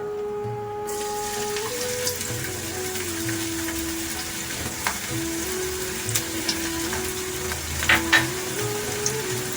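Two chopped onions fry in hot oil in a pan, making a steady, close sizzle that runs throughout, with a few light clinks from stirring near the end.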